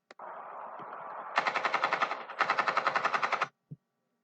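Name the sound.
gunfire in an animated show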